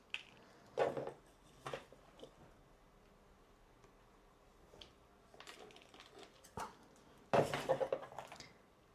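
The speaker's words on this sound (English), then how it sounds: "I'm just going to fill up this pot with the soil mix" Soil mix poured and scooped into a plant pot during a philodendron billietiae repot, with scattered scraping, rustling thumps and a few clinks. The sounds come close and in uneven bursts, and no one speaks.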